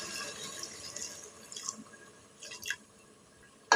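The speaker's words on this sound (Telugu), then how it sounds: "ఇది మగ్గిన తర్వాత కొంచెం వాటర్ పోసుకోవాలి." Water poured into a cooker pot holding a curry with cashew paste, heard as faint, soft trickling and drips at a distance, ending in one sharper clink.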